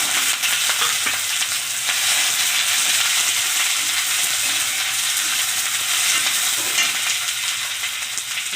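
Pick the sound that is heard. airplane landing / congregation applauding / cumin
cumin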